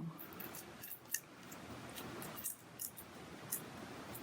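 Scissors cut down a fat drinking straw, giving a few faint, close snips and crisp clicks spread over a quiet background.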